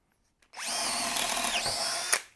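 A Harbor Freight Hercules cordless drill bores with a 1/2 inch bit in one sustained, loud whine of about two seconds that dips in pitch partway through as the motor loads up, then winds down.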